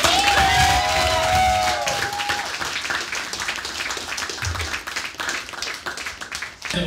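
An audience at a live comedy show applauds and cheers, with a sustained whoop over steady clapping that continues as a rippling crowd patter.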